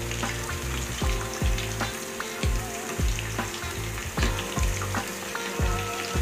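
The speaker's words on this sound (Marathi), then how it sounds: "इथे मी सोयाबीनला फ्राय करून घेते" Marinated soybeans fry in a pan over low heat, giving a steady close sizzle with regular stirring scrapes and clinks every second or so, no voices.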